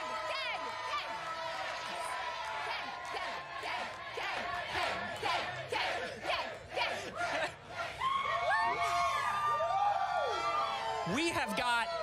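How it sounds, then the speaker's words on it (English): A crowd at the world premiere of Ant-Man and the Wasp: Quantumania yells and cheers for an actor in a loud, rhythmic chant of repeated shouts, with excited voices and screams rising over it near the end. "What is it like to see this crowd yelling your name?"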